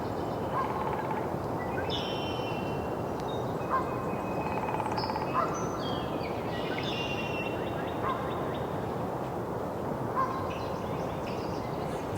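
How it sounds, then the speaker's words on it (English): Faint, twittering goldfinch song comes in short bursts over a steady, hissing outdoor background. "That's a goldfinch singing."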